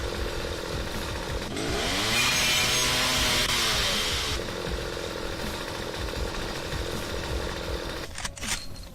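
A two-bladed chainsaw weapon in the video game StarForge revs up into a loud, sustained grinding buzz for several seconds, winds down, then gives a short burst of clatter near the end.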